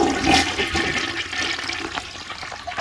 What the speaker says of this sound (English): And let's flush it.